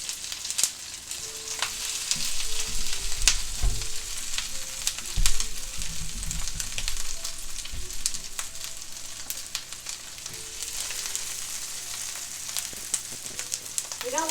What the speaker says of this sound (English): That sizzle makes me hungry.